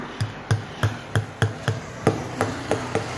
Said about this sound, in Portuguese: Então vai lá, Baininho, fura todo o pneu.